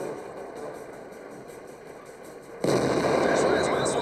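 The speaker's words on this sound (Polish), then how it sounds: "Strzelę mu w wieżyczkę." An IS-3 tank cannon fires in the video game World of Tanks, with a sudden loud boom that cuts through the engine rumble and leaves a sustained roaring wash behind it.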